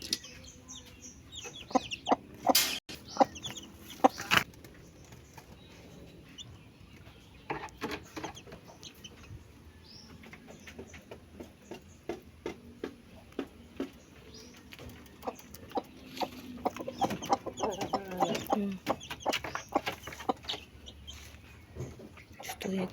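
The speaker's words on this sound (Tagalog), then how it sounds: "Gusto niya kasing lumabas kasama yung mga sisiw niya, bagong sisiw niya." Mother hen with her newly hatched chicks, soft repeated clucks and faint peeps scattered close by, while someone talks quietly over them throughout.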